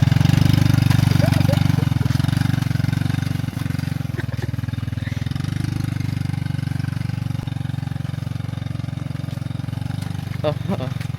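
A motorcycle engine runs steadily on a rural farm trip, holding a loud, even drone with slight swells in revs throughout, while someone talks over it.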